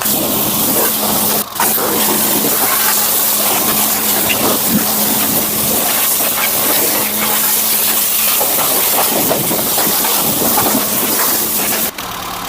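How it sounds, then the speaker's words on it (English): A steady, loud broadband rush like a pressure washer spraying, running continuously with a brief cut near the start and another near the end. "to get the pressure wash out in a minute"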